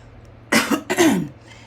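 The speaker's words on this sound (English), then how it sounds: "I apologize, you guys, for the coughing" Two quick, harsh coughs in close succession, loud and close up, with a faint low hum underneath and no talking.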